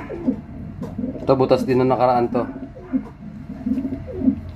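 Racing pigeons in a loft coo in low, throaty bursts, one rolling coo standing out loudly in the middle, while someone talks over them close to the microphone.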